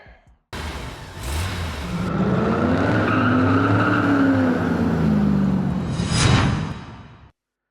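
A 2006 Ford Fiesta ST150 hatchback is driven along country roads, its engine note droning and rising steadily up close before easing off, with no talking.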